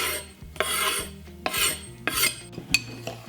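Dry bath salts and loose herbs scraped and stirred together in a bowl, several gritty rasping strokes with faint clinks, close and fairly quiet, no talking.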